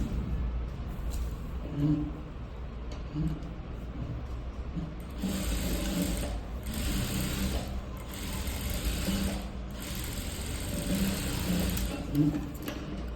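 A sewing machine runs straight stitches on a blouse lining in short bursts with pauses between them, a steady mechanical whir close by, while someone talks over it.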